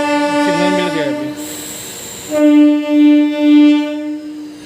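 The Ahmedabad–Kevadiya Janshatabdi Express departs Chandod station, sounding a loud horn: a brief blast, then three pulsing blasts, over a quiet platform background.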